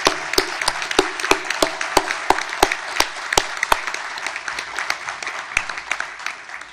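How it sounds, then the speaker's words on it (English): A crowd at a sustainable business and solar summit applauds, with sharp, distinct claps in a steady rhythm over a denser wash of clapping, moderately loud and gradually tapering, with no speech. "can we give them a round of applause?"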